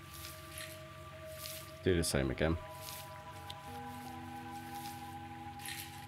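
Gold pan in the video game Gold Rush, dipped into water and lifted out, making a brief burst of sloshing and splashing in the middle while someone talks quietly before and after.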